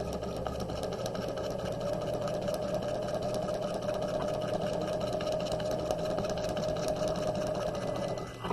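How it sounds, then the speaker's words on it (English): A sewing machine stitches a 5/8 inch side seam on a quarter zip jacket, running in one steady, fast, continuous whir that stays loud and close from start to finish, with no talking. "To sew the side seam of the jacket, we're going to sew a 5/8 inch seam allowance"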